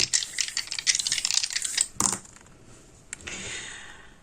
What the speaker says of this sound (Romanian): Haideți să vedem ce ne spun zarurile astrologice pentru voi